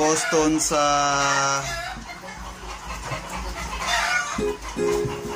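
Boston Roundhead and Black Henny gamefowl roosters crow with long, drawn-out calls near the start and again near the end, with clucking and barnyard noise in between, all close and loud.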